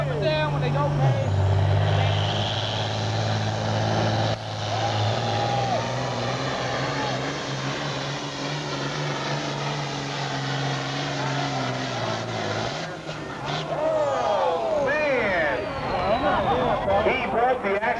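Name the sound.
pulling tractor engine roaring down the track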